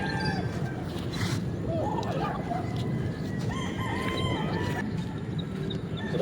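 A young backyard stag rooster crows repeatedly in short rising calls, fairly close, mixed with clucking from other fowl against a steady outdoor background hum.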